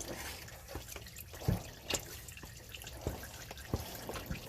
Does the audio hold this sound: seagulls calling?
no